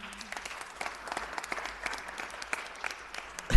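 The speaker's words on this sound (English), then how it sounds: "let's give Melina Abdullah a round of applause" A room at a city council meeting breaks into applause for an honored guest, a fairly soft, even patter of many hands lasting throughout, ending with a sudden loud thump.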